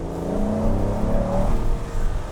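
Aston Martin DBS V12 engine revving loudly and steadily up close, a rich droning tone that climbs in pitch before easing back.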